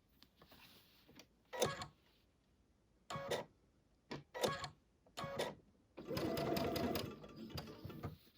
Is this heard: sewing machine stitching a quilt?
yes